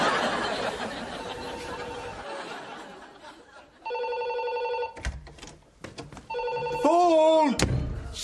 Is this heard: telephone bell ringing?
yes